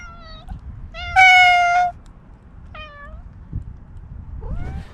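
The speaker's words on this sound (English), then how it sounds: "What you doing, little kitty?" A cat meows several times up close, one call long and loud among shorter ones, over a low rumble with no talk.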